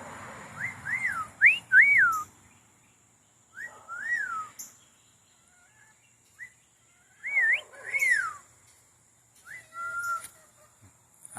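An Amazon parrot perched in a fig tree gives bright rising-and-falling whistles and chattering calls in short bursts separated by quiet gaps, close and clear with no people talking.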